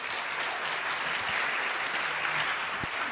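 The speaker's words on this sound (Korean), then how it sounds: "논 목사님 모실 때 큰 박수 부탁드리겠습니다." Audience applause at a church parenting seminar welcoming a pastor, a dense, even crackle of many hands clapping throughout at moderate level, with no speech over it.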